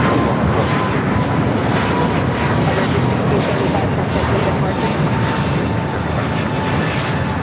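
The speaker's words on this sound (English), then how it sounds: "This is American 1675 going to Phoenix on the Airbus A321neo." An Airbus A321neo jet taxiing at LAX: a loud, steady roar of jet engines close by, with a voice talking under it.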